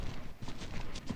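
Hooves of a mare in a canter during a jumping session, a quick run of soft, rhythmic thuds close by under a low background rumble.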